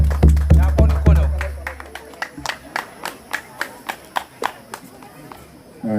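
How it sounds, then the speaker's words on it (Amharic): Audience at a 2014 graduation ceremony claps in a loose, steady run of distinct hand claps after a voice speaks briefly at the start. "አጨብጭቡ እንጂ እንዴ!"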